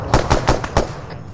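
Rapid gunfire in the military shooter ArmA 3 fires five loud, close shots in quick, even succession, then a faint later pop.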